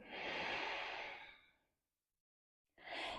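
A long, slow breath out during a yoga flow, soft and airy, fading to silence before a fresh breath begins.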